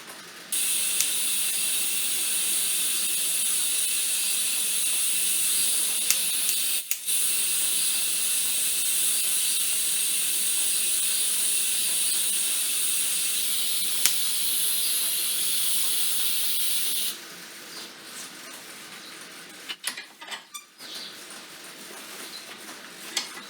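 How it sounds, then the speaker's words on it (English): Welding a tailstock extension on a combined lathe and mill machine gives a steady, sharp hiss and crackle that holds for about seventeen seconds, then stops and leaves quiet clicks and light handling noises. "Now I'm just going to weld it in position through these holes all the way around."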